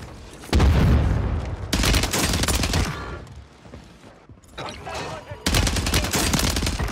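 STG44 assault rifle fire in Warzone, loud and close, with long sustained automatic bursts broken by brief pauses and a heavy boom-like punch at the start of each volley.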